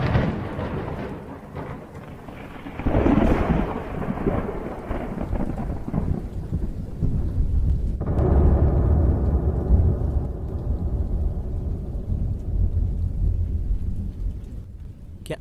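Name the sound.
heavy rain and thunderstorm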